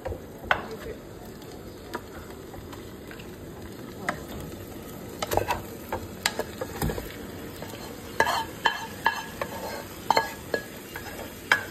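Marinated beef for a beef curry hits a hot pan and sizzles steadily, with scattered scrapes and clinks of stirring breaking through a continuous frying hiss.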